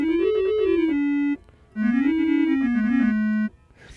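Casio Casiotone 405 keyboard's clarinet preset played without sustain, two short reedy melodic phrases with a wavering pitch that stop abruptly, separated by a brief gap of near silence.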